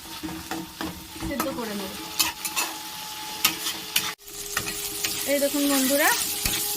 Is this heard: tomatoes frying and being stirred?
yes